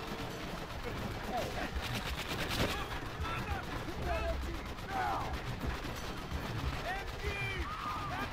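Gunfire from Call of Duty: World at War on the Wii, with steady rattling shots and bursts running through a dense battle ambience while players talk over it.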